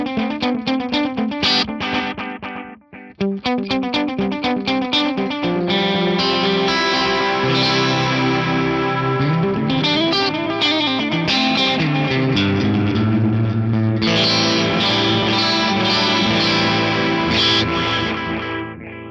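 Distorted electric guitar playing riffs and chords through a gritty delay into a pair of amps, repeating echoes trailing each note with a dense, saturated tone.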